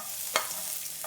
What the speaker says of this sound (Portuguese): Vou acrescentar agora, gente, a nossa cebola, o pimentão e o tomate.